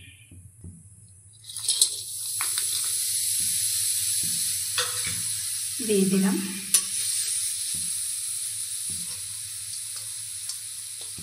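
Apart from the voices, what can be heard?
jaggery sizzling and melting in a wok while stirred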